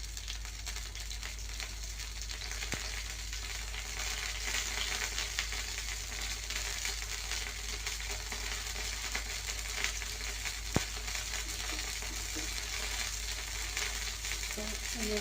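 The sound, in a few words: ghee sizzling in a pan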